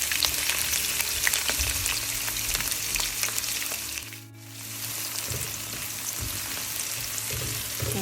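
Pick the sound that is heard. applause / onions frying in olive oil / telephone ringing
onions frying in olive oil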